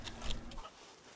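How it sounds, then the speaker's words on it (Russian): Chickens clucking close by in a short, quick burst of a few soft clucks, then fading into quiet background. "О, курочки, курочки."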